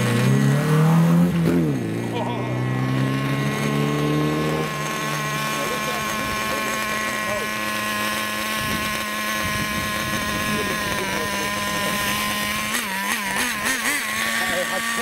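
A Carson CV-10 Reso 2.0 RC car drives at speed, its high-pitched electric motor whining loudly and steadily as the pitch rises and shifts over fifteen seconds, with people talking and exclaiming over it.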